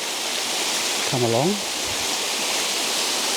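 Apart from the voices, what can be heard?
waterfall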